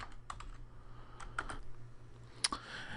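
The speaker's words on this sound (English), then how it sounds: "you can just type in the web address" Computer keyboard keys tapped to enter a web address, a short, sparse run of light clicks close by, quiet with no voices.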